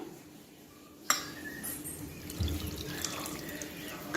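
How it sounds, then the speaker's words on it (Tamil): Tamarind water pours and splashes into a pot of dry fish curry after a sharp clink, a steady liquid trickle continuing for several seconds nearby. "இப்போ இந்த கருவாடில் கொஞ்சம் புளி ஊற்றிடுவோம்"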